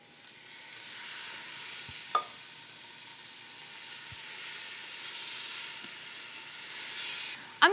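Beef top of the rib sears in a hot pan with a steady broadband sizzle and hiss, a few brief clinks or turns breaking through, and the sizzle swells again near the end; no voices.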